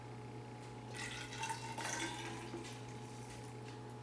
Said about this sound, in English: I've got 1/4 cup of water in here, and I'm going to pour this.